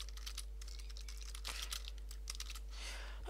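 Rapid clicking of keys on a computer keyboard, a steady run of close, crisp taps with slight pauses, played alone over a faint low hum.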